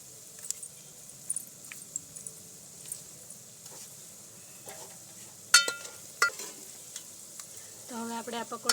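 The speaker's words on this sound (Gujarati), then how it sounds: "તો તેમાં આપણે આ નાના નાના પકોડા તળી લેવાના છે" Small pakoras frying in hot oil give a faint, steady sizzle with scattered clicks and scrapes of stirring, growing busier near the end.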